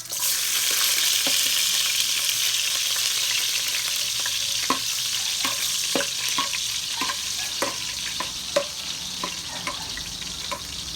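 Chopped garlic sizzles steadily in hot oil in a pan while fried chicken is being cooked, with light scattered clicks of stirring over the continuous frying hiss.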